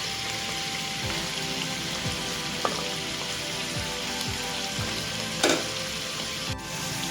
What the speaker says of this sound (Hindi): अब इनको हम फ्राई कर लेंगे।